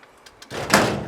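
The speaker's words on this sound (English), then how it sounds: "when I get out the garage, I've got to pull the garage down" A garage door is pulled down and falls shut: a few faint light taps, then a sudden loud rumbling clatter that peaks sharply and rattles on briefly.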